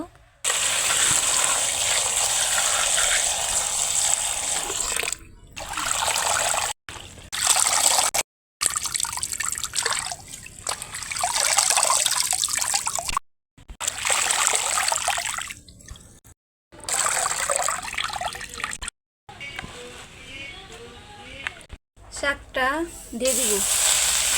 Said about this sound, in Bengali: এখন শাকগুলোকে ধুয়ে নিব